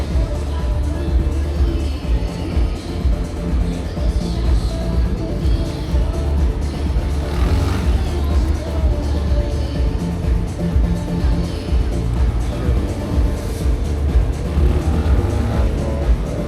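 A Benelli TNT 25 motorcycle sets off on a timed run at a Ternopil motorsport stage, its engine droning loud and steady throughout, with a public-address voice faintly audible under the noise.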